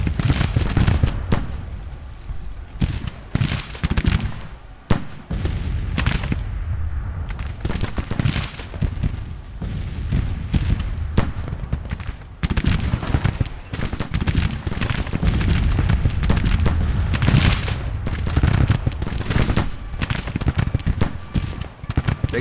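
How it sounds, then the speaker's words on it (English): Continuous battlefield din of Civil War cannon and musket fire in Grand Tactician: The Civil War, irregular volleys and booms overlapping throughout, with brief dips between clusters of shots. "they're shooting at the infantry and cavalry for some reason"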